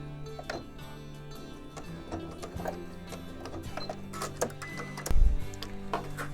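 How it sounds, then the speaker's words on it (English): A sewing machine runs a short back stitch to secure the end of a seam on a Dresden plate wall hanging, giving a steady mechanical whir with ticking clicks and a louder knock near the end, close by and without voices. "We want to do another back stitch to secure this"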